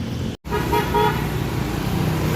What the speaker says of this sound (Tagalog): Ito pa ay isa sa main road po ng Intramuros kung saan po dumadaan ang ating mga sasakyan